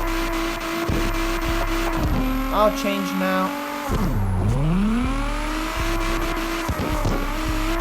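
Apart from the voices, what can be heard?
car engine revving and tires in CarX Drift Racing video game, R32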